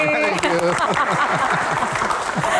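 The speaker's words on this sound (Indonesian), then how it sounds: "Tepuk tangan sekali lagi." A studio audience at a televised Q&A talk show claps, dense steady applause that overlaps with voices talking throughout.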